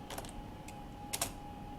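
Quiet keystrokes on a computer keyboard while HTML code is entered, a few short clustered taps spaced across a brief moment with no talking.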